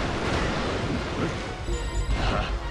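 Sea-power water wave attack in Hyrule Warriors Legends: a loud, continuous rush of surging water with crashing swells throughout, no voices.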